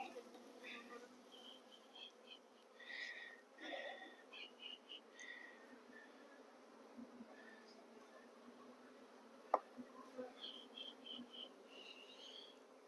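Honey bees hover around a moved hive box full of drawn comb and honey, giving faint, intermittent buzzing whines that come and go close by against a quiet background.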